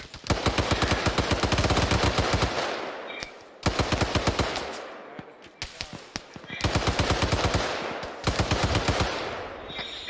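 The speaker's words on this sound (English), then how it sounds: "I'm still hearing another 50 cal firing" A .50 cal heavy machine gun in a military video game, firing in long rapid bursts of booming shots, loud and close, separated by short pauses, with no talking.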